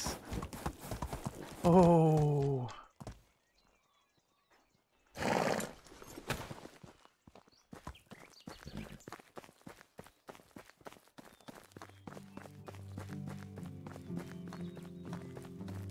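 A horse ridden in the medieval village game Medieval Dynasty: a loud neigh, then a steady run of hoofbeats that speeds into a brisk clip-clop rhythm, with another snort and background music joining near the end and a brief spoken exclamation.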